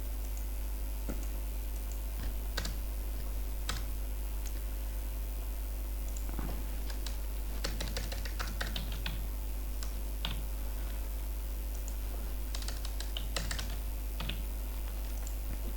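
Someone types on a computer keyboard, producing quick clusters of close, crisp key clicks with short pauses between bursts over a faint background hum, with no talk.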